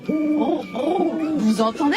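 An owl's hooting, imitated by a voice as a series of wavering, pitched hoots in quick succession, loud and close, with a child's exclamation mixed in.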